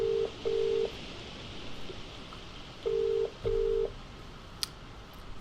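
Touch-tone phone number dialed in a video game, with four crisp DTMF beeps in two pairs of quick presses over a faint background hum and no talk.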